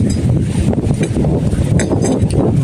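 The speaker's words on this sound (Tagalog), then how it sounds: "Lakas ng hangin." Strong wind roars steadily, buffeting the microphone with a dense, rumbling rush.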